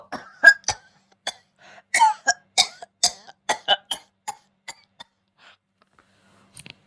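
A man coughs in a string of dry, harsh bursts, loud and close, some bunched in quick clusters and others spaced apart, trailing off into quiet with a last faint cough.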